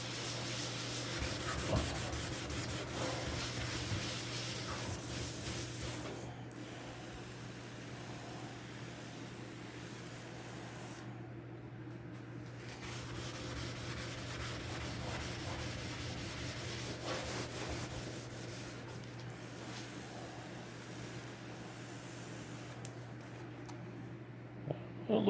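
Soft, steady rubbing of a Scotch-Brite pad over painted metal on a car being restored, faint and continuous over a low background hum.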